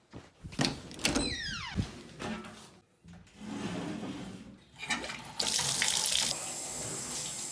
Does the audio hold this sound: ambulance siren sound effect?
no